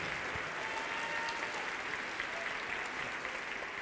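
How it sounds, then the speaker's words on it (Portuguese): Church congregation applauding steadily during a sermon, a dense wash of many hands clapping at moderate distance, even and sustained throughout. "Se é para aplaudir, aplauda o nome do Senhor, glorificando a Ele."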